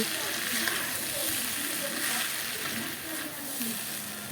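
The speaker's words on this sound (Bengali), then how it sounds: "এখন পেঁয়াজ দিয়ে আলুগুলোকে আরও ভেজে নেব আলুগুলো একদম লাল লাল করে ভেজে নামিয়ে নেব" Potatoes frying with onion in hot oil for a rohu fish curry, a steady close sizzle and crackle running throughout, with a voice talking over it.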